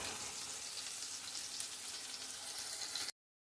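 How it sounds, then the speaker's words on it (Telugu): An onion and tomato puree mixture fries in a pan with a steady, fairly faint hiss that holds even for about three seconds and then cuts off abruptly. "ఉల్లిపాయలు, టమాటో ప్యూరీ ఈ మిశ్రమాన్ని బాగా వేయించుకుందాం."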